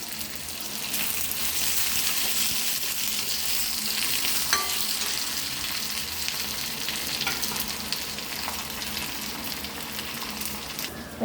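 Small onions and curry leaves fry in a pressure cooker for Chennai-style kootu curry, giving a steady close sizzle with faint scattered clicks of stirring, no voices.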